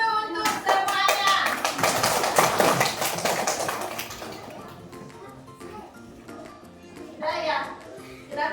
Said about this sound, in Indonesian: Tepuk tangan dulu untuk semuanya.